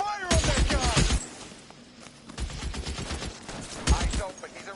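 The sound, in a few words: gunfire in the video game LA Noire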